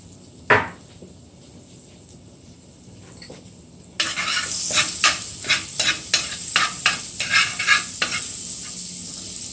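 Garlic and curry powder frying in a pan for Jamaican chicken patties: a single clack, quiet hiss, then a louder sizzle with a steady run of rhythmic spatula scrapes and knocks, close up, no voices.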